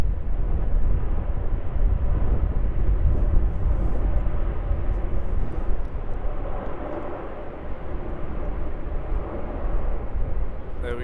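Xiamen Airlines airliner touching down and slowing on runway 34 at Melbourne Airport, a steady loud broadband engine and rollout roar holding for the whole stretch with a slight swell midway.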